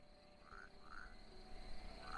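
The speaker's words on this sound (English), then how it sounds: "You can still hear the frogs." Frogs croak in a video game, a few rising chirpy calls spaced about half a second apart over a quiet steady background hum.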